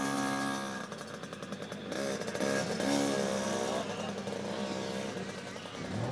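Junior motocross motorcycles race around a paddock, their small engines buzzing and revving loudly with rising and falling pitch as they pass, some close and some farther off.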